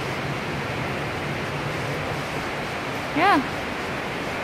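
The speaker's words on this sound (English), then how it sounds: "Can you hear the water rushing down there? The waterfall?" Rushing water from an indoor hotel waterfall in Las Vegas makes a steady, even wash of noise, with a person briefly saying one word near the end.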